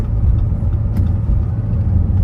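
A car on a road-test route in Sarny accelerates to overtake another car, a steady low engine and road rumble heard from inside the cabin without speech.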